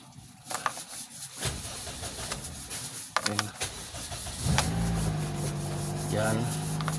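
A Toyota Vios engine cranks briefly, then catches and settles into a steady idle that hums on to the end, heard up close with some handling noise beforehand.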